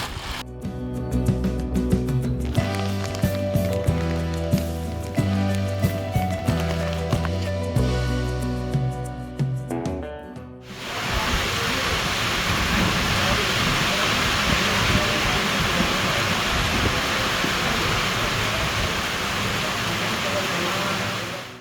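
Steady, dense hiss of heavy rain at the temples of Amarkantak fills the second half, following a stretch of loud rhythmic music.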